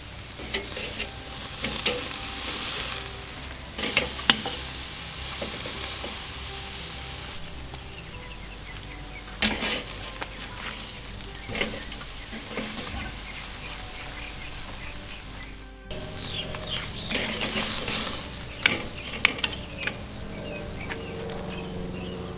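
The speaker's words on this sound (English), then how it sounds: "I'm going to go ahead and sear this tri-tip directly over the coals" Tri-tip steak searing directly over hot charcoal coals on a barbecue pit, a continuous loud sizzle and crackle with scattered sharper pops throughout.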